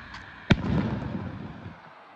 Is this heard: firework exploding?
yes